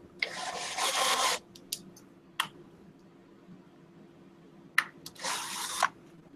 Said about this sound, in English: you can put them in a drill